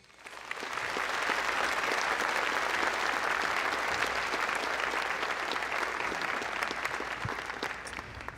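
At a 2022 Memorial University convocation, the audience breaks into long, loud applause. Dense clapping swells in within the first second, holds steady, then tapers slightly toward the end.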